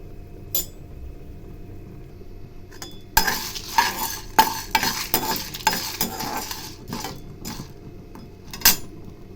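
Dry roasting in a kadai for an okra thuvaiyal, with a spoon stirring and scraping: clustered scrapes and clinks in an uneven rhythm after a quiet start, close and moderately loud.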